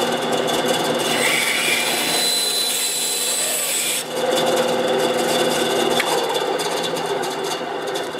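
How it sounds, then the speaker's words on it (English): An old bandsaw cuts through a plastic suspension rail for a 1/12 scale RC HEMTT trailer build, a loud continuous rasping drone with a brief dip midway. "We're just going to take the old bandsaw."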